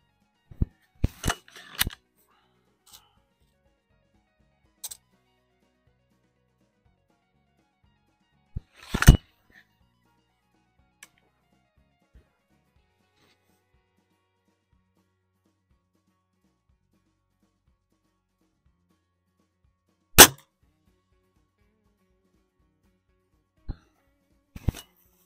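A brand new gun fires a few sharp, loud isolated shots spaced seconds apart, with faint handling clicks between them and otherwise near silence.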